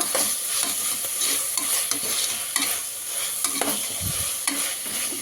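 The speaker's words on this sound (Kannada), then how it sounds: "ಆಮೇಲೆ ಒಂದು ಸ್ವಲ್ಪ ಫ್ರೈ ಮಾಡ್ಕೊಬೇಕು ನೋಡಿ ಈ ಥರ" Fenugreek leaves and turmeric are stir-fried in a pan, with a soft, continuous close sizzle broken by frequent sharp scrapes and clatters of a spatula, and no voices.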